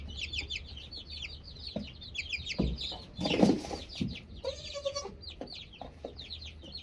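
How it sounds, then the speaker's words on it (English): Young chickens cluck and peep in a steady busy chatter, close by, with a few louder squawks breaking through in the middle. "This one here I think is a little rooster."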